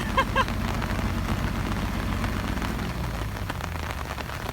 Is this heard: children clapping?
no